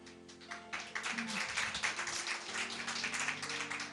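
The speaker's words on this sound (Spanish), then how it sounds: "La hermana Gladys, un aplauso para ella." Church congregation applauding a sister during a Sunday service, clapping building up after a brief lull and continuing as a dense, fairly loud patter, with some voices mixed in.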